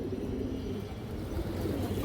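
A single male silver pigeon coos softly in a low, throaty murmur, close by and fairly quiet against a faint background hum, with no speech.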